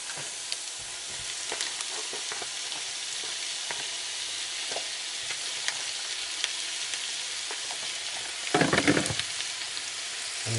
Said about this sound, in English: you want to go add the mince.